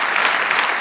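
A church congregation applauds in a short, dense burst of steady clapping that stays even and full from start to finish, with no voices standing out.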